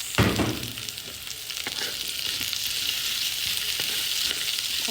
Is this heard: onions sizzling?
yes